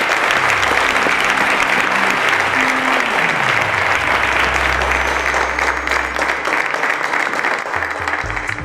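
A studio audience at a televised quiz show season finale applauds three finalists, a loud, dense, unbroken wash of clapping with low musical tones sounding beneath it.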